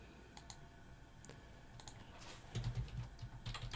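Rapid keystrokes on a computer keyboard during a data workshop, an irregular run of light clicks that grows denser and louder toward the end, with no voices.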